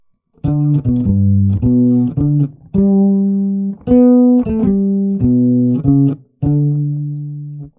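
A single-line melody of sustained tones jumps widely between notes rather than moving stepwise, played alone in a steady, moderate rhythm.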